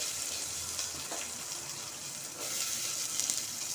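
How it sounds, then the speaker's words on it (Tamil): Shallots and garlic sautéing in a pan, an even, fairly quiet sizzle with faint stirring movements, continuous and with no one talking. "இப்போ சின்ன வெங்காயமும் பூண்டும் வதக்கிக்கிறோம்"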